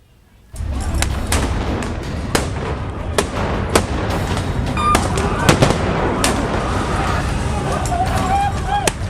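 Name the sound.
explosions from Israeli air strikes in Gaza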